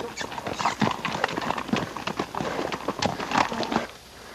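Several packhorses clip-clop steadily along a mountain trail, hooves close and loud in a dense, continuous rhythm, with faint voices underneath.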